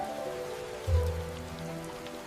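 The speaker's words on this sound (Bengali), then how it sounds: "এই বৃষ্টি কতক্ষণ চলবে?" Rain pours steadily during an animated village storm, a continuous hiss of drops on surfaces with a brief low thud partway through, no voices.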